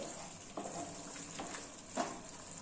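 Cauliflower curry with yogurt and tomato frying in oil in a pan, a steady soft sizzle with a few louder stirring scrapes, close by and with no talking.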